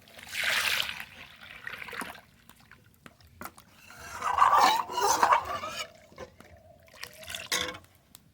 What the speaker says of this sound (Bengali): ডাল একটু ঘুটে নিয়েছি, এবার জল দিয়ে দেবো।